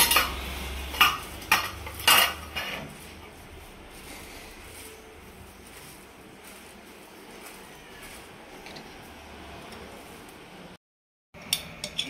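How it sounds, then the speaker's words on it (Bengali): Metal spoon clinks and scrapes in a pan, stirring a ghee and turmeric mixture for basanti pulao, with several sharp bursts at the start, then a quieter continuous rustle and a brief gap near the end. "এরপর আমি সুন্দর করে নাড়িয়ে নেব"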